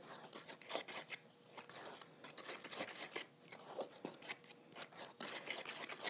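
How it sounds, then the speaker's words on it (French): Dry ingredients for homemade edible paint being stirred together in a bowl, giving irregular scraping and rubbing strokes with gritty, crunchy bursts, close and quiet with no talking. "je vais mélanger mes ingrédients secs ensemble"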